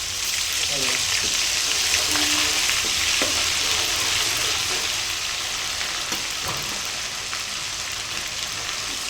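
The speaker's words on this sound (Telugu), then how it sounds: "ఈ ఆయిల్లో అల్లం వెల్లుల్లి పేస్ట్, ఇదిగోండి ఫ్రెష్గా మిక్సీ పట్టిన అల్లం వెల్లుల్లి పేస్ట్ వేసేస్తున్నా." A steady, bright sizzle of freshly ground ginger garlic paste frying in hot oil, with occasional stirring scrapes and a faint voice in the background.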